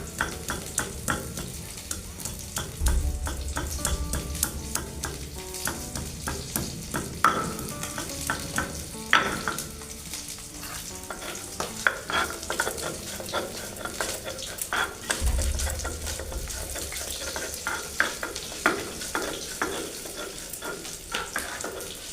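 Katla fish pieces frying in oil in a pan in a village kitchen, a continuous bright sizzle with frequent stirring scrapes and clinks, close and steady for the whole stretch, with no talking.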